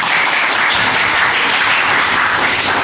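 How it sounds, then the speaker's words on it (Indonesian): A classroom of students claps together in a teacher training session, a loud, dense burst of applause held steadily for a few seconds with no talking over it. "Bagus, tepuk tangan."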